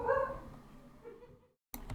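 A dog barks a few times in the background, faint and muffled, with a short dropout before a sharper burst at the end.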